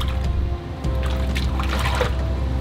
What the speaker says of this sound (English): push gently down into the water until they are all saturated